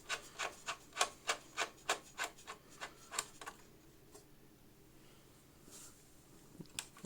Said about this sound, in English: I'm using a PH00 screwdriver. So, just undo the one little screw at the top.